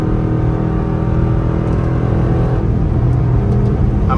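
Dodge Durango engine in traffic during a downshift, a loud steady low rumble and drone from inside the cabin with no clear rev spike, no talking.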